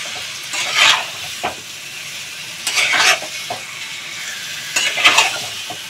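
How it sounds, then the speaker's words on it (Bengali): Chicken curry sautéed in a pan over a high flame: three bursts of loud hissing sizzle as the meat is stirred, with a utensil scraping and tapping the pan in between and a faint background crackle throughout. "এটা আমি ভালো করে কষবো আর ঢাকা দেবো"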